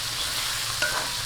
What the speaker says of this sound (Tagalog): ilagay na po natin itong ating bagoong. Ayan, natin lang pong gisa-gisahin